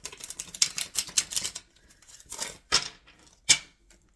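A deck of tarot cards is shuffled in quick bursts of crisp riffling and slapping, a dense run of card flutter followed by a few sharper separate snaps, close and alone with no talk.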